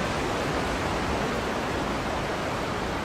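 A large waterfall in Skyrim roars as a loud, steady rush of water that fills everything, continuous and close, with no other sounds.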